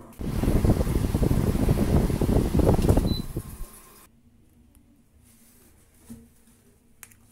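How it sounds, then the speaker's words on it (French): A portable air conditioner with a large exhaust hose runs as a loud, steady whooshing drone for about three and a half seconds, then shuts off, leaving a quiet room with a faint click near the end. "je vais éteindre le climatiseur"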